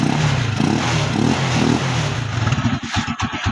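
Motorcycle engine idling with a steady low throb, then cut by an alarm kill switch so it sputters and dies away in a few uneven pulses near the end.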